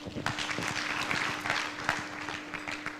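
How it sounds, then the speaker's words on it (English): An audience at a safe motherhood conference claps for a speaker, a fairly close burst of many hands with individual claps audible, steady over a faint electrical hum, tapering slightly toward the end. "A bigger hand clap for Dina."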